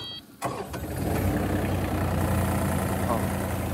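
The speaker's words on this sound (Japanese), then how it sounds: "じゃあエンジンつけたいと思います。" A mini excavator's modern diesel engine cranks over and catches, then settles into a steady, fairly quiet idle that runs loud and close through the rest.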